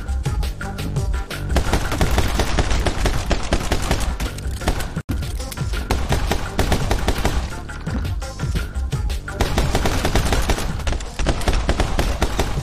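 Rapid pistol gunfire from the video game My Friend Pedro, dense bursts of shots rattling almost continuously with a single brief pause midway, loud and busy throughout with no talking.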